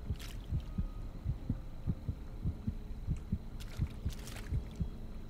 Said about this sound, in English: Am I supposed to use the heartbeat to tell where you're at?